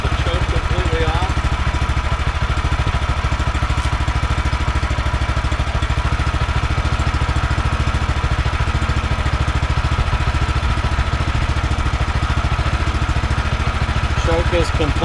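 A small engine on a Woodland Mills HM126-14 sawmill idles with the choke fully off, a steady even putter that runs loud and close without letup.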